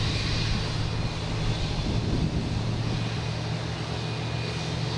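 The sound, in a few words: loud airplane at Boston Logan Airport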